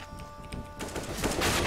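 Rapid automatic rifle fire sprays through a wall in the video game CS:GO, a dense burst of crackling shots that grows louder and thicker toward the end.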